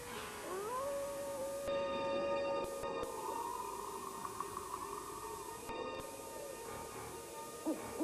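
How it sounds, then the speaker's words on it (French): A coyote howling at night, a long, drawn-out rising and falling wail held for several seconds, moderately loud with faint higher harmonics trailing along, no talk over it. "Seulement un coyote qui chante une sérénade"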